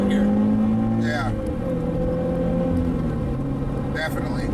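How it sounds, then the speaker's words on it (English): A track-prepped Subaru BRZ's engine drones steadily from inside the cabin, its exhaust note humming low and constant, with brief bursts of voices over it. "that exhaust sounds really good from in here"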